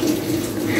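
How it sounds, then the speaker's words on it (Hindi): Water pours steadily into an automatic washing machine tub during a tub-cleaning cycle with detergent added, a continuous close rushing flow with no talk. "इसका पानी आना स्टार्ट हो गया है"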